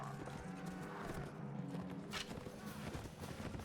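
Horses in the Mount and Blade Warband game during a siege battle, with steady clip-clop hooves under a dense, continuous din of battle noise and no clear speech.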